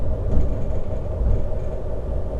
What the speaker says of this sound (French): Allez conducteur, tu peux tirer encore 5 wagons